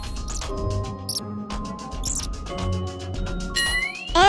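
Cartoon mouse squeak effect used for an alphabet lesson: a run of short, high, chirpy squeaks with bright tonal pings, close and clear, with no voices.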